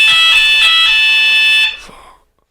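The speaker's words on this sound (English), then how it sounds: "The fire alarm's going off in the routine." A fire alarm blares loudly and steadily as a harsh, continuous electronic tone, then cuts off abruptly and fades away with no talking.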